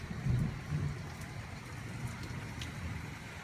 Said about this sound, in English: Look at that rain. Isn't it lovely? It's just a little too hard right now.